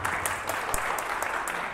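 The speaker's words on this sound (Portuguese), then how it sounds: "Mas bora bater essas palmas melhor" Audience members at a lecture on the digital world and the third sector clap close by, loud and brisk, with a few sharp individual claps standing out of a steady patter that lasts under two seconds.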